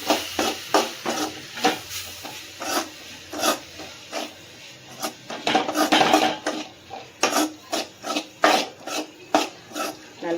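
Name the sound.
stirring and sautéing masala with chilli powder in a pan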